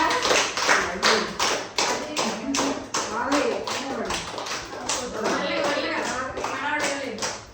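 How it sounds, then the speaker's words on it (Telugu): A group of people at a small game gathering claps hands in quick rhythmic bursts, loud and close, with voices talking over the applause. "చప్పట్లు కొట్టండి మైకా"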